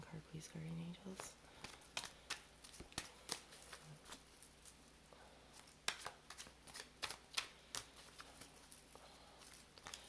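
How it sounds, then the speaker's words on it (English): A deck of cards is shuffled in repeated crisp riffling bursts, close and moderately loud, with soft murmured speech between them. "it's just telling me to shuffle more"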